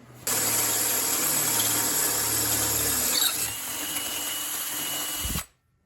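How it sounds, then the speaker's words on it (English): A power drill bores holes for pillow block bearings on a grocery scooter build, a steady loud whine held for about five seconds, changing pitch partway through before cutting off abruptly. "So we're getting our holes drilled."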